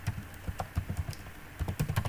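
Fingers type quickly on a computer keyboard in a steady run of close, clicky keystrokes, with a short pause partway through and nobody talking.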